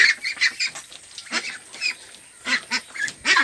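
Young Pekin Star 13 ducks call in a series of short, rhythmic honking quacks, fairly close and repeated through the whole stretch with brief pauses between bursts.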